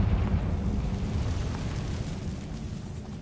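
A Confringo blasting spell erupts in Hogwarts Legacy as a loud, rumbling explosion that roars continuously and slowly tapers off, with no voices.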